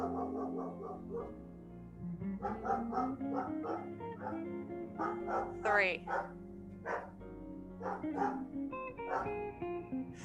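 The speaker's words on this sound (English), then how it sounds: "I don't know if you can hear my dog barking." A dog barks repeatedly in short, close bursts with a few yips and whimpers, while a person counts through an exercise routine in the same room.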